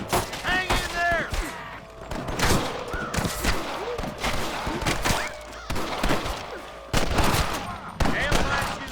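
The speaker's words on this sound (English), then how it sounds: "Damn fine shooting, boys." Gunfire in a Red Dead Redemption shootout around the town of Armadillo: repeated loud, close rifle and pistol shots crack in irregular bursts, mixed with shouted voices between volleys.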